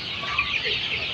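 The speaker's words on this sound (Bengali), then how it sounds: "দেখতে পাচ্ছেন 4000 মুরগির লেয়ার শেডের বাচ্চা।" A shed of about 4000 layer chicks, 42 days old, fills a brief moment with a dense, close chorus of overlapping clucks and chirps.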